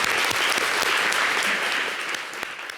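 A studio audience applauds a guest on a French TV show, steady dense clapping that fades slightly toward the end.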